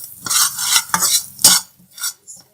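Chaat masala, salt and sour potato spice roasting in a pan for dahi chana chaat, stirred with a spoon in a few loud scraping sweeps, then two softer scrapes before falling quiet.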